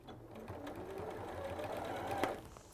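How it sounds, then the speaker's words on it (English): A sewing machine chain piecing quilt pieces together at a 1/4 inch seam, running in one quiet steady hum and whir for a few seconds without talking. "So I'm just going to go and do that and chain piece these all together so it's nice and quick."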